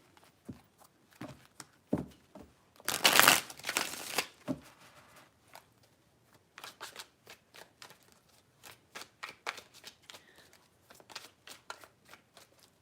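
Tarot cards being shuffled, a dense burst of riffling snaps in the middle followed by many short separate card flicks and taps, close and fairly quiet, with no talk.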